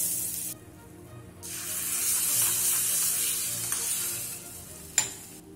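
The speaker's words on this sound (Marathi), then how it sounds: "ही फोडणी चटणीवरती ओतून घेऊयात।" Hot tempering of mustard seeds and asafoetida in oil poured over onion chutney, giving a loud sustained sizzle and spitting hiss that rises after a brief pause and ends with a sharp clink.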